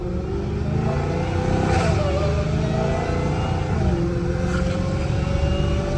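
A loud supercharged Dodge Hellcat Redeye engine drones steadily with a rising supercharger whine layered over a deep rumble, swelling slightly a couple of times while cruising.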